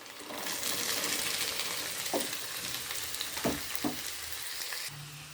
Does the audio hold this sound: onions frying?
yes